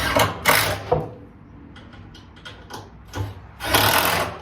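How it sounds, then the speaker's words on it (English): A power driver runs 1.5-inch washered square drive screws into a universal garden tool organizer in a shed, with two loud whirring bursts separated by quieter clattering handling noises. "I got just a couple screws I'm going to run in here quick"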